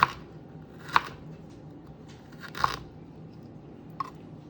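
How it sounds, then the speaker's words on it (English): A kitchen knife thinly slices a vegetable laid flat for stability into strips, with about four faint, sharp cuts spaced roughly a second apart against a quiet background. "lay it flat so it's nice and stable, and then I can just thinly slice it"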